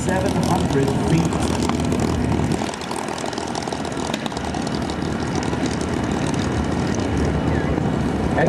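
C-17 Globemaster III transport aircraft at a 2008 Joint Services open house demo, its engines producing a loud, sustained roar throughout, with a public-address voice talking over it.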